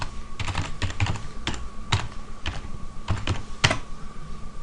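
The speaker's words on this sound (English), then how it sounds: "you can see here I'm typing in the name of the exe" Typing on a computer keyboard while entering a program name at a DOS prompt: a close, steady run of sharp key clicks with occasional louder strikes, alone with no talking.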